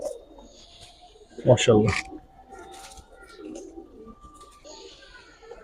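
Giribaz pigeons coo softly at a pigeon market, low and close, with a brief burst of a man's speech over them.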